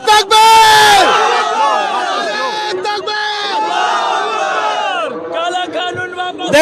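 A large street protest crowd in Kolkata roars a chanted slogan in unison, loud and close, with repeated bellowed calls and responses filling the whole stretch.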